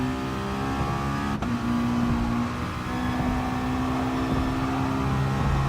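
Race car engines drone steadily through a GT Sport online race, a Ferrari running close alongside; a sustained high engine whine holds constant with a brief click near the start, no talking.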